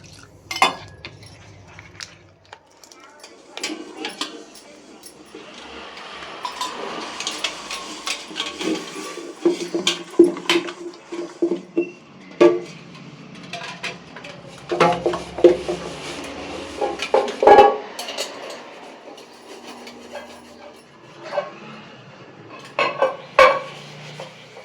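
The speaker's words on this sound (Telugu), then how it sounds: "ఇక గిన్నెలు తోమడం స్టార్ట్ చేశాను కదండి" Steel dishes and containers are scrubbed in a kitchen sink, with irregular metallic clanks, clinks and rubbing scrapes rising and falling over a faint background hush.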